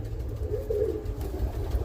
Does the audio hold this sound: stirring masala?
no